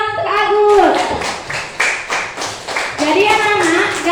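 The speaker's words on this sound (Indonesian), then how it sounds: "tepuk tangan untuk Agus" A classroom of children claps for a student, a short series of distinct rhythmic hand claps in the room, with a teacher speaking at the start and end.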